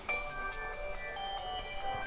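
A smartphone ringtone plays for an incoming call, a tonal electronic melody of short repeating notes, moderately quiet and alone.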